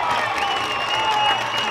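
Football crowd at a homecoming game cheering and applauding, a dense, continuous roar of clapping and voices.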